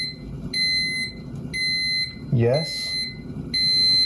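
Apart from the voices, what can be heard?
smoke alarm beeping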